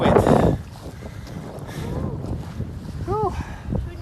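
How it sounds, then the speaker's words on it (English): Sailboat moving under wind, with broadband wind and water rush against the hull, loud gusts at the start then a steadier wash, and voices briefly heard over it. "And we're sailing! Woohoo! And now we're using the wind."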